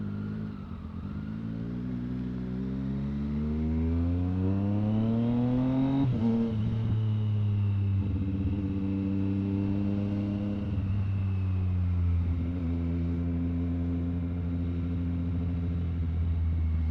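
Triumph Street Triple R motorcycle ridden through traffic, the engine revving up through gears with rising whine, a shift, then another climb and steady cruising drone, loud and close throughout.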